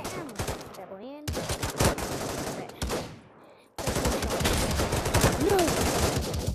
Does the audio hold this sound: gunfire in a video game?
yes